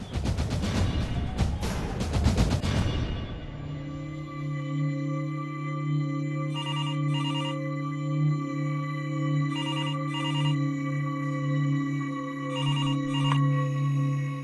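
An older telephone bell rings in loud repeated bursts near a home setting, first layered over a dense clattering noise, then continuing in spaced double rings above a sustained musical tone.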